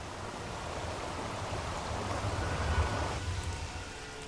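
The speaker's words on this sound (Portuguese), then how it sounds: "As chuvas vêm e vão tão rapidamente como começaram." Steady rainfall in Manaus hissing on surfaces, a dense, even wash of drops with a low rumble underneath, with no voices.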